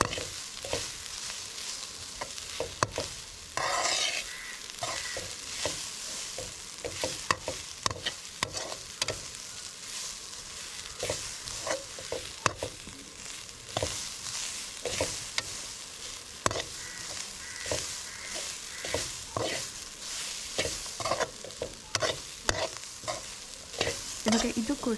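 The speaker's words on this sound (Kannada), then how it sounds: "ಮತ್ತು ತೆಂಗಿನಕಾಯಿನ ತುಂಬ ಫ್ರೈ ಮಾಡೋದು ಬೇಡ, ಸ್ವಲ್ಪ ಮೀಡಿಯಮ್ ಫ್ರೈ ಆದರೆ ಸಾಕು." Grated coconut, with a little turmeric added, fries in a pan, a soft continuous sizzle broken by repeated scraping and clattering stirs of a spoon against the pan, heard close with no talking.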